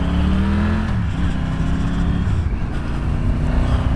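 A Triumph Tiger 900 Rally motorcycle rides out of a car park, its engine note steady and close with a slight dip and rise in pitch as it moves off, constant throughout with no talking.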